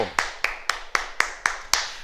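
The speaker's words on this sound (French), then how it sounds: "On s'applaudit, bravo" A group clapping in unison after a karate exercise, seven sharp, evenly spaced claps about a quarter second apart, close and distinct with brief decays between them.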